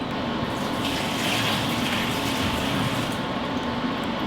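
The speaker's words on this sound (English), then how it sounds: "We're just gonna pour in water." Water poured steadily into a container, a continuous broadband rushing and splashing that holds at an even, close, loud level from start to finish with no talk over it.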